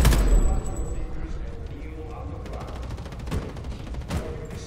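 Gunfire from a newly picked-up weapon in the shooter game Homefront: The Revolution, a sharp opening blast followed by a few scattered shots and mechanical clicks over busy game ambience, with someone talking faintly underneath.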